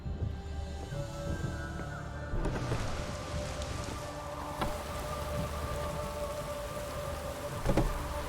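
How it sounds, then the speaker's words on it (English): Steady rain falls in The Witcher 3: Wild Hunt, a dense, constant hiss of drops hitting surfaces, with a few faint distant rumbles and knocks mixed into the downpour. "No use doing any work in this rain."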